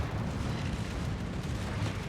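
A naval gun fires in a warship video game. The boom is a dense, rumbling, low-heavy blast that rolls on for the whole stretch at a moderate distance, with no voices.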